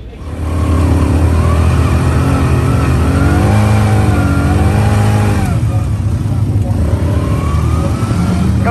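A sprint car engine revs loud and close at a race, rising and falling in a long throaty pull, with voices speaking over it.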